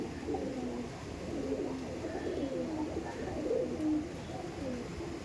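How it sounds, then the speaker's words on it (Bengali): Several pigeons, ready-to-breed Giribaz tumbler pigeons, coo continuously in overlapping, throaty murmurs nearby, forming a steady low chorus throughout. "আর সমস্ত কিন্তু রেডি টু ব্রিডের পায়রা আছে, দেখছেন?"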